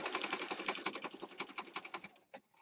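A sewing machine stitches across a paper journal page in a quick run of rhythmic, close-up stitches that slow and stop near the end.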